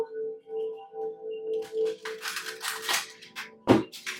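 A tarot deck is shuffled by hand, a short flurry of riffling card flutters after a quiet hum, ending with a sharp tap as the cards settle.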